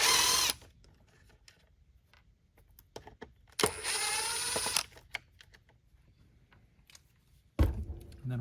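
An electric power screwdriver backs out T10 screws from a Shark Navigator Lift-Away vacuum, with two loud whirring bursts, one near the start and a longer one midway, plus a short final burst.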